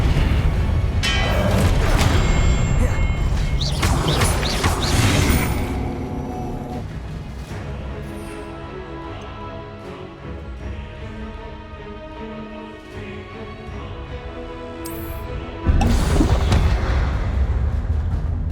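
Spell effects from Hogwarts Legacy on PS5, with loud booming bursts and crackling magical impacts that swell and fade, quieter whooshing stretches between them, and a sudden heavy blast near the end.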